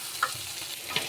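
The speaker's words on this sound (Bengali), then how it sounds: "আর এটা আমি আসলে সরিষার তেল দিয়ে ভাজতেছি" Pumpkin and shrimp frying in mustard oil with black cumin seeds, giving a short, steady, close sizzle with a couple of small pops.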